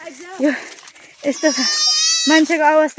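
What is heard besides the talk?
goats bleating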